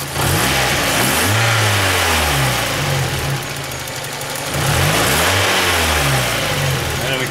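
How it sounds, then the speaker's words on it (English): A 1991 Mazda Miata MX-5 engine is revved by hand at the throttle body under the open hood, giving two loud rising-and-falling revs over a steady idle, heard up close. "So you can flip the throttle right here, right on the throttle body."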